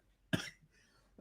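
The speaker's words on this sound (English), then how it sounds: "I'm sorry about the cough" One sharp, close cough from a single person, a brief harsh burst followed by quiet.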